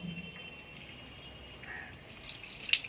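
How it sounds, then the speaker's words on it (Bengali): Water spilling over from a full household water tank after the pump has run, a soft steady trickling and dripping at moderate distance with a few brighter splashes near the end. "দেখো জল ভরে পড়ে যাচ্ছে"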